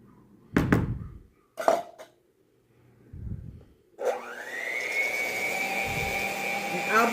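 Sweet potato pie filling being mixed, heard as a few knocks and scrapes of utensils in a bowl followed by a steady whirring electric mixer that runs continuously for the last few seconds.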